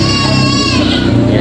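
Native goats bleat at a livestock market in Padre Garcia, Batangas, their wavering calls overlapping steadily amid a busy crowd murmur, with people talking nearby.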